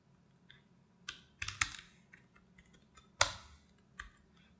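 Keystrokes on a computer keyboard while a report name is typed, with a few scattered soft taps and clicks and a couple of sharper, louder key presses, close and quiet with no talking.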